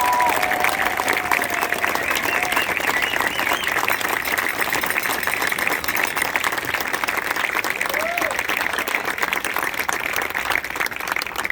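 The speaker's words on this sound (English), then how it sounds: "Can we give our students a huge round of applause?" Student audience at a marching band preview night breaks into sustained, loud applause with cheering that keeps a steady level throughout, while scattered shouts and whistles rise above the clapping.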